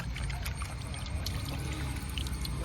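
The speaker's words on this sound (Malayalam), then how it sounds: "ലാസ്റ്റ് കഴുക്കിലുള്ള വെള്ളമാണ് ഒഴിക്കുന്നത്" Water pours steadily with a low, continuous rushing splash, close by and unbroken for a few seconds, with no talking: the last rinse water from washing chicken being poured out.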